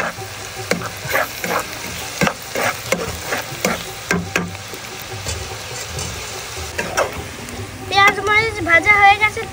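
Chopped chilli fries lightly in a pan with a close, crackling sizzle, broken by repeated scraping knocks of a stirring spoon, and a voice talks near the end.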